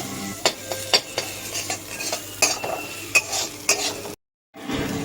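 A spoon scrapes and stirs a ground paste of onion, garlic and ginger frying with spices in a pan. Steady sizzling runs under repeated clinks and scrapes, broken by a brief gap of silence.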